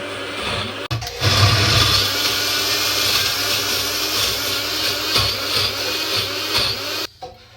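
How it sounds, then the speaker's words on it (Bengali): A blender grinds nuts into a paste with a loud, steady motor whine. It starts abruptly after a brief pause near the beginning and cuts off sharply near the end. "বাদামগুলা ব্লেন্ড করা হচ্ছে"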